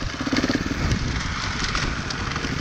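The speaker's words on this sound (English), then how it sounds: "They brought a little 4-stroke" A 2018 Beta Evo Factory 300 four-stroke trials motorcycle engine runs at idle, a steady low chugging rumble, close and moderately loud.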